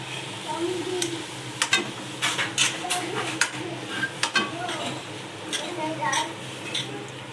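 Batata poha with vegetables and masala frying in a pan, with a soft sizzle underneath and repeated clinks and scrapes of stirring, while a person talks over it.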